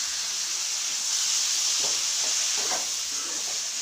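Tomatoes sautéing in a pan for beetroot greens, a steady broad sizzle with faint soft scraping toward the end, close and continuous with no voices.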